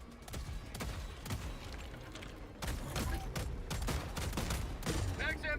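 Dense, continuous video-game gunfire from a Helldivers 2 battle, rapid overlapping automatic bursts and booms sustained at steady loudness throughout, with faint background voices mixed in.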